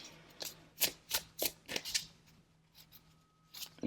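Tarot cards shuffled and drawn by hand during a pick-a-card reading, a rapid series of crisp riffling snaps and flicks, close and fairly loud, with a faint steady hum beneath and no talking.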